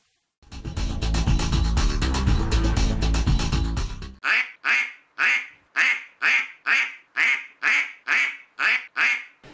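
Ducks quacking at Augustusburg Castle, loud close calls in a steady run of about eleven evenly spaced quacks, following a few seconds of busy music.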